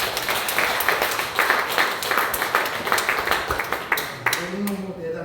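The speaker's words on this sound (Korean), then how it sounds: "우리 박수 쳤지만 한번 더" A church congregation claps together in a steady, dense round of applause that fills the room, with a voice briefly audible near the end.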